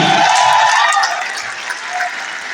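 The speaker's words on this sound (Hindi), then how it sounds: "जोर से तालियां बजाइए इस टीम के लिए।" Loud applause from an audience in an anniversary event at Tyagraj Stadium, Delhi, fills the space, dense and steady, then slowly eases off.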